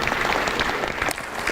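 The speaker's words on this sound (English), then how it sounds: "Big round of applause for the panel" Dense, steady clapping from a conference audience applauding a startup event panel, a brief burst with no voices over it.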